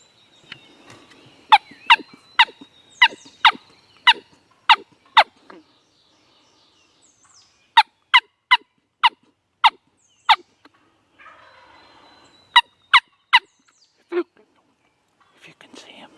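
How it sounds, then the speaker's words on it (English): A wild turkey tom gobbles in rapid bursts of sharp rattling notes with a low rumble, loud against a quiet outdoor background, while a person whispers in between. "You can hear like the rumble in his gobble."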